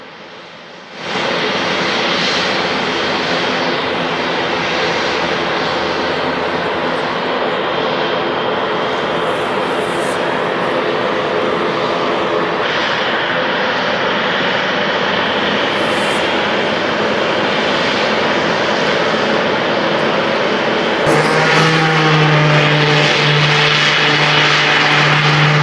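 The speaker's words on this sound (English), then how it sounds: "This Piaggio P.180 Avanti Evo departs LCY, featuring a canard design and Pratt & Whitney PT6A66B engines" Piaggio P.180 Avanti Evo canard turboprop with Pratt & Whitney PT6A-66B engines departing London City Airport, a sustained loud engine roar and propeller whine that swells and ends with a strong steady tone up close.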